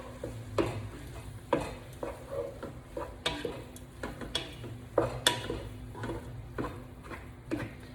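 Chunks of tri tip browning in a pot for chili are stirred, giving repeated sharp scrapes and knocks of the utensil over a quiet, steady sizzle, fairly close and with no talking.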